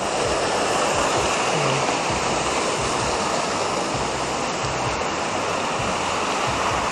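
Steady, loud rush of a strong-flowing river, a dense unbroken roar with no voices, constant from start to finish.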